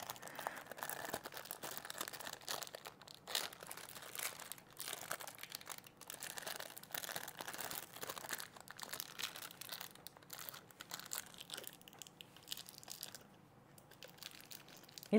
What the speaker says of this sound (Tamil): ஸோ நம்ம இந்த கவர் பிரித்து சாப்பிட்ணும்.